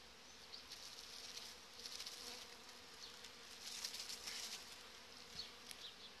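Honeybees buzz as they are shaken off a hive frame during a colony inspection, a continuous close swarm drone with small surges and flickers of wingbeats.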